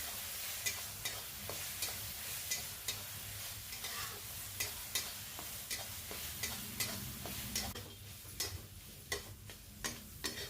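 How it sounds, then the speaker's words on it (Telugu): A paste of coconut, coriander, green chilli, mustard, cumin and jaggery fries in a pan for Andhra masala pulihora, with a steady low sizzle broken by regular light scraping stirs, faint and alone. "ఆ పేస్ట్ వేయండి. పచ్చి వాసన పోయే వరకు ఫ్రై చేయాలండి."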